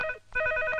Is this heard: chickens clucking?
no